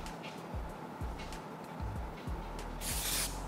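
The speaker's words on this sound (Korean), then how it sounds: "안쪽에 스프레이 뿌려주세요." Hair spray misted onto the inner hair to hold volume during a styling session, a soft hissing burst building near the end over faint background noise, without speech.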